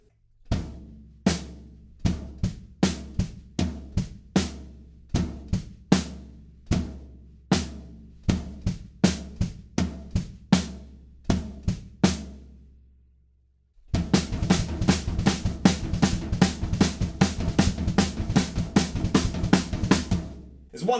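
A drum kit plays the verse beat of a song, sharp kick and snare hits in a steady groove, then after a brief pause the full kit returns busier and denser with constant cymbals, close and loud.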